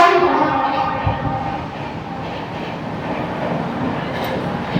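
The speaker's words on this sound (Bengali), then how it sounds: "ইটাওয়া থেকে ছাড়লো নেতাজি এক্সপ্রেস" The Netaji Express, Howrah to Kalka, pulls out of Etawah station with a loud, steady rumble of rolling wheels and carriages close by, a horn-like tone fading early on.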